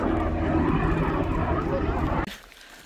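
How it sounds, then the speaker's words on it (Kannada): A helicopter flies overhead at a scenic caves site in the Blue Mountains, Canada, its loud, steady engine roar filling the air with voices in the background before the sound cuts off abruptly near the end. "ಹೆಲಿಕಾಪ್ಟರ್ಲಿದೆ."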